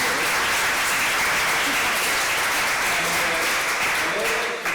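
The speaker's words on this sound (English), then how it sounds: "a great round of applause again for Valeria" Steady, dense applause from a lecture audience at an academic event on the securitization of migration fills the room for several seconds, loud and continuous with no speech over it.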